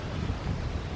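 Steady wind buffets the microphone with a low, rumbling roar, no voices present.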